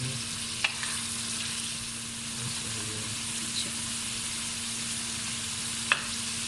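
Chicken frying in a pan for salsa chicken, a steady soft sizzle with a few faint clicks of stirring, close and even, over a low constant hum, no voices.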